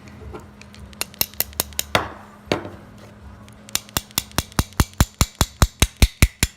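Sharp metallic taps from a small brass hammer striking a pin while reassembling a Browning Buckmark pistol, first scattered, then a steady quickening run of a dozen or more ringing blows.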